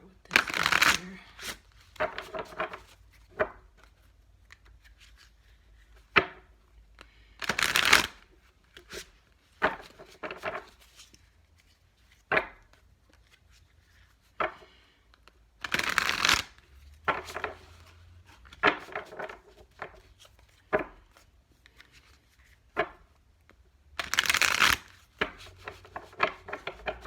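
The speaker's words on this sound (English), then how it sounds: "Shuffle one more time." Tarot cards being shuffled by hand, repeated bursts of riffling and sliding card noise, close and crisp, separated by quiet pauses and softer rubbing handling sounds.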